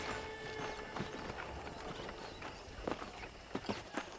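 Hooves from a horse being ridden in Red Dead Redemption, a soft, fairly distant patter of footfalls over a dense wash of outdoor ambience, with a few sharper thuds near the end.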